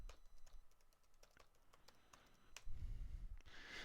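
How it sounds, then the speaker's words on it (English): Quick, soft keystrokes on a computer keyboard as a password is entered, a close run of light irregular taps followed by a brief louder rustle at the end. "I'll type it in."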